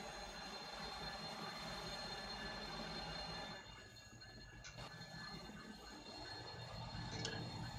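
An SD70 diesel locomotive rumbles steadily in a train simulator game on an Australian map, with a continuous low engine drone and faint mechanical squeals and clanks.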